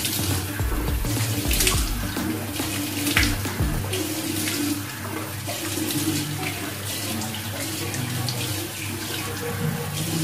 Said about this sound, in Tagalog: Mag-rinse na tayo ng tubig dito.